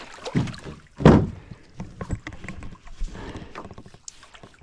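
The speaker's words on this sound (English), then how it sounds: "got a bit of a paddle here on Hogan Lake" Canoe paddling on Hogan Lake, with irregular splashes and knocks of the paddle against the hull and water, one louder stroke standing out near the start, close by, with no talk.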